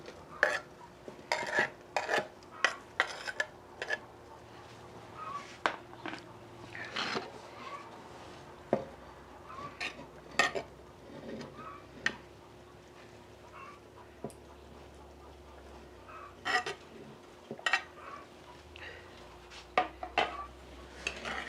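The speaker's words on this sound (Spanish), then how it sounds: "Lo voy a revolver bien" A spoon stirs cooked beans and fried ingredients in a metal pot, with repeated close scrapes and sharp clinks against the pot in an uneven rhythm over a quiet background hum.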